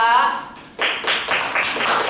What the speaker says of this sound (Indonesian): tepuk tangan buat Aura